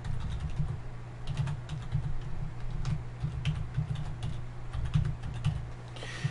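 Fingers typing an email address on a computer keyboard, a steady close run of quick key clicks with brief pauses between bursts.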